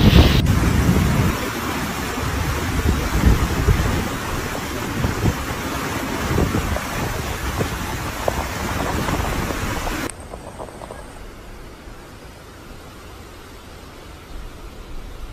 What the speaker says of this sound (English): The storm characterized the violent winds and heavy rainfall has described it upon the holy city